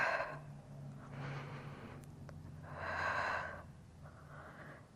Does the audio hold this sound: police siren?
no